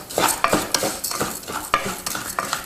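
Arborio rice toasts in butter in a pan, stirred with a utensil in quick repeated scraping strokes over a faint sizzle, close and fairly loud.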